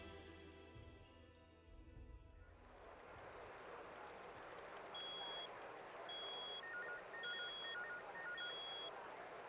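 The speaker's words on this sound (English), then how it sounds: "He spent most of his time trying to call someone on the phone." Telephone dialing tones on a bugged phone call recording: a series of short evenly spaced beeps and dual-tone pulses over steady static hiss, preceded by brief low rumbling sounds.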